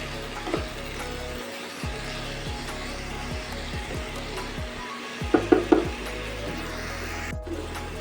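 Bottle gourd frying in ghee for a sweet lau payesh, with a steady sizzle throughout, low scraping stirs and a quick cluster of sharp clinks from the pan midway.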